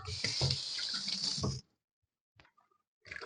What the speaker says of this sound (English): We want to give these a quick rinse.